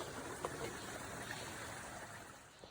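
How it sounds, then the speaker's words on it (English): A small creek runs under a little footbridge on a hiking trail, giving a faint, steady wash of flowing water with a few soft splashes and no voices. "Another creek crossing, a cool little bridge."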